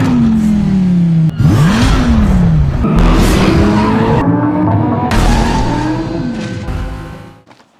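A 2015 Lamborghini Huracan drives hard with repeated loud tire squeals and skids, the engine revving and rising in pitch between squeals before the sound fades away at the end.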